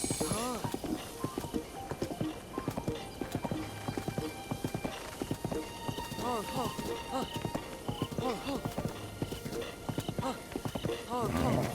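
Rhythmic hoofbeats of a horse in the video game Breath of the Wild clop along at a steady pace while a person talks over them, with horse snorts and breathy sounds mixed in.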